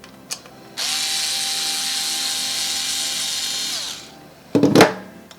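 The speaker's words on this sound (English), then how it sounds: "This way we can use our drill." A power drill whirs steadily for about three seconds, spins down, then a short burst of ratcheting, clattering mechanical noise follows as the drill removes Phillips-head screws from a graphics card.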